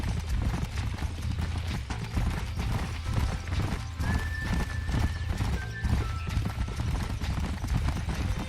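Horse hooves clip-clop steadily with a whinny partway through, in the video game Red Dead Redemption, over a dense, busy in-game soundscape with faint creaking.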